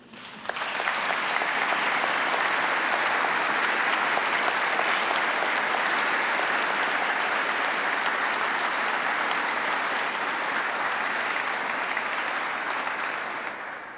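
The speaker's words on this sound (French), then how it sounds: "Veuillez les applaudir, s'il vous plaît." Sustained applause fills a diaconal ordination ceremony honouring its helpers, a dense steady wash of many hands clapping that starts abruptly, holds evenly and tapers at the end.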